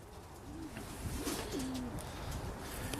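Classic Old Frill pigeons coo inside a coop cage, soft low rolling coos repeating close by over a steady background hiss, with no one speaking.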